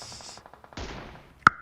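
Gunfire in the video game PUBG Mobile, a quick run of light rhythmic shots followed by a louder burst and a sharp single crack with a ringing tone near the end.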